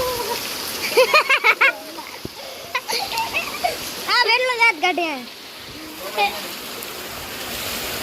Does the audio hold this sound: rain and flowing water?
yes